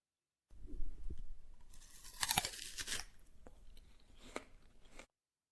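A crisp crunch of someone biting into an apple, followed by a few softer crunching chews, close up in a quiet room.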